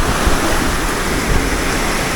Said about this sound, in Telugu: And water flow.